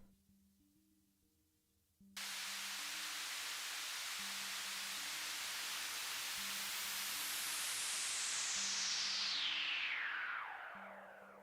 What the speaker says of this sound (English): So then we just go white noise output into that there.